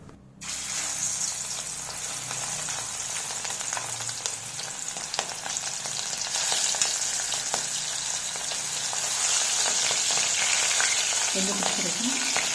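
Prawns fry steadily in a shallow amount of sunflower oil, a dense, continuous sizzle with fine crackling spatters, close and fairly loud throughout with no talk.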